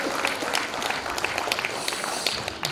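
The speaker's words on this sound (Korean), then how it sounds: "박수 한번 주십시오" An audience in a hotel convention hall applauds during a celebration concert. A broad, steady wash of many hands clapping runs throughout, with scattered sharper claps standing out. A voice faintly rises beneath the applause.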